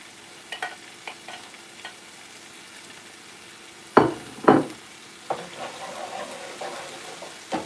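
Garlic sizzling in a frying pan over medium heat while cooking Filipino pork bistek, a steady soft crackle with a few louder stirring scrapes near the middle, no talking.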